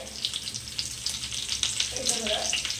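Curry leaves dropped into a pan of butter garlic prawns crackle and sizzle loudly up close, with bursts of spitting pops over a steady frying hiss.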